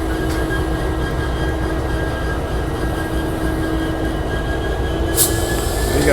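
A Norfolk Southern K99 freight train with a Buckingham Branch GP38-2 locomotive rolls past in Charlottesville, Virginia, a steady heavy rumble of railcars with a thin wheel squeal running throughout, close and loud.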